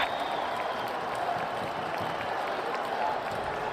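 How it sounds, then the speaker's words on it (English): A large football stadium crowd at a Redskins-Eagles game in Philadelphia roars and cheers continuously, a dense, steady wash of noise with no clear pauses. "So this Eagles crowd, I think, has gotten involved, Kevin."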